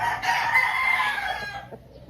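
A rooster crows once, loud and close, a drawn-out call that trails off near the end.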